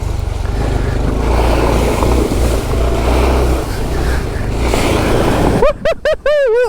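A Honda CT125 motorcycle pushes through deep water, a loud steady wash of churning water and engine rumble close to the microphone, ending in a brief warbling tonal sound.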